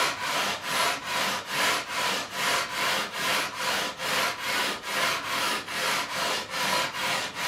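Rhythmic back-and-forth scraping of a leveling beam sanding the frets of an Ibanez RG200 guitar neck, about two strokes per second, steady and close with no talking.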